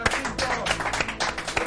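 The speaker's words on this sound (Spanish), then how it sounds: "Lo aplaudimos para recibirlo, Jacinto." Studio audience claps on a Spanish-language TV talk show as a guest astrologer is welcomed, with scattered close hand claps under a voice.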